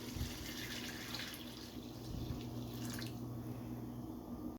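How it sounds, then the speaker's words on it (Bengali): Hot water pours into a pot of white-style beef bhuna curry as a faint, steady splashing stream that lasts several seconds and stops abruptly. "এখন সিদ্ধ হওয়ার জন্য আমি অ্যাড করছি গরম পানি"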